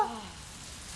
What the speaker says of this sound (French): Oh, il commence à pleuvoir.